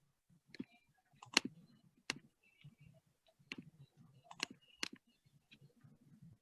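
A computer mouse clicks during an online webinar, in a sparse series of sharp, close clicks spaced irregularly, some in quick pairs, over near silence.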